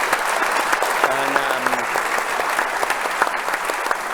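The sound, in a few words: audience applause for a panel speaker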